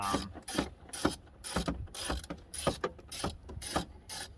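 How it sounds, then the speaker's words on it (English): Ratchet clicking rapidly near by as it loosens 10 mm bolts holding a Jeep fender liner, in short repeated bursts of sharp pawl clicks with brief pauses, no talk. "You do need a stinking ratchet. So there's two 10 millimeters up here that are holding this in."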